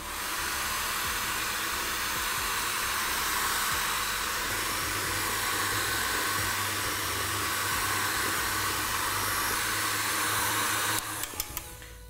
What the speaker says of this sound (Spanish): con la ayuda de nuestro secador de cabellos vamos a lograr nuevamente esa textura sedosa